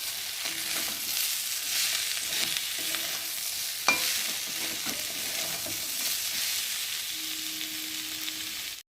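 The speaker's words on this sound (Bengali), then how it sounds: "দেখো বেশ মশলাটা ভালোভাবে কষিয়ে নিয়েছি, আর মশলা ভাজা ভাজা গন্ধ একটা ছেড়ে দিয়েছে" Spice paste with chopped tomato and chili powder fries in a pan for a loitta fish chorchori. A steady, close sizzle runs throughout, broken by spatula scrapes and one sharper clink.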